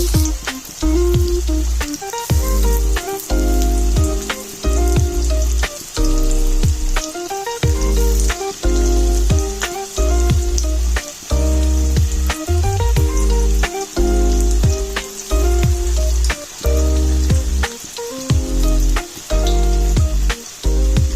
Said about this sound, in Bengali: এখন আমি এগুলোকে লাল লাল করে ভেজে দেবো।